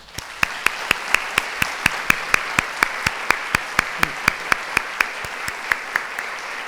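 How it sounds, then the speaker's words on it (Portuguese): Applause from an audience at an educational event at MASP in São Paulo, heard as a steady run of distinct claps forming a clear rhythmic pattern throughout, moderately close. "a elas eu quero fazer uma salva de palmas final"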